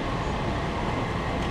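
A WMATA Rohr metro train on the Washington Red Line pulls out of the station with a loud, steady, close rumble of wheels and motors filling the whole moment.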